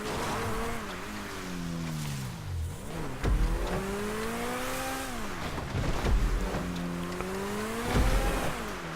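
An Overflod Entity car is driven off-road in a video game, its engine revving up through gears and dropping back repeatedly, with rising and falling whine, gear shifts and occasional bumps and tire noise, alone and continuous.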